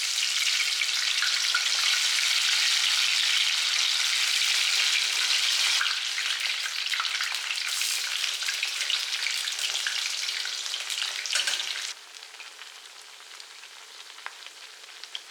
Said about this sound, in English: Once soaked, all that's left is to fry these on medium-high heat.